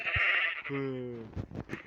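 A sheep bleats once in the Minecraft video game, a short wavering cry following a brief higher tone, with soft game clicks and thumps after it.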